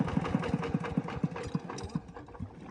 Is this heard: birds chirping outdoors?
no